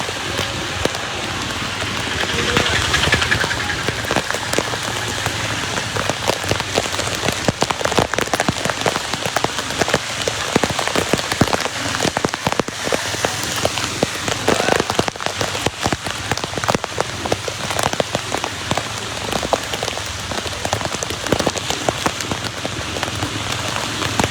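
Heavy early-morning rain pours steadily on the streets of Dwarka town, a dense, even hiss of drops hitting surfaces throughout, with no voices.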